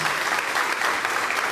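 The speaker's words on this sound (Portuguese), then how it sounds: "Vamos aplaudir o nosso Deus, bem forte em nome de Jesus." A church congregation claps loudly and steadily at a Sunday service, a dense continuous burst of applause filling the whole moment.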